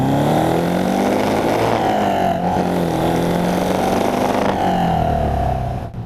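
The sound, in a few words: Lotus Europa car accelerating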